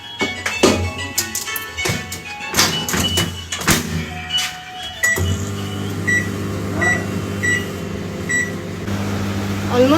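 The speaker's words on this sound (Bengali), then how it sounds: "এবার এটা ঢাকা দিয়ে মাইক্রোওয়েভে 10 মিনিটস রেখে দিতে হবে।" A microwave oven starts after a burst of clattering, clicks and beeps. It then settles into a loud, steady hum with a faint rattle, close by, with no voices over it.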